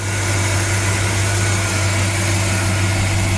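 A 1964 Chevy Chevelle convertible's 283 V8 runs with new plug wires, making a loud, steady, even idle rumble close by, alone and without talk.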